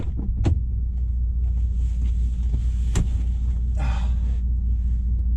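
A Bentley Continental GT Speed drives along a road, its steady low engine rumble and road roar filling the cabin, with a couple of sharp clicks and a brief rising whoosh over the continuous drone.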